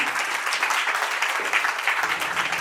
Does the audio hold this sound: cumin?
no